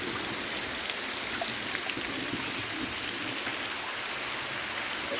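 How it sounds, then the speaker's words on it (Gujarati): Steady rain falls outdoors in a continuous, even hiss of drops with no pauses and no voices. "હવે વરસાદ ચાલુ થઈ ગયો જો"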